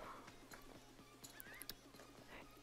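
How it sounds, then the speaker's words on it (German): A horse gallops in the video game Star Stable, with steady rhythmic hoofbeats and a faint whinny-like tone, soft and distant under quiet game ambience. "reiten wir mal hier zurück und machen mal den Arbeitsgalopp"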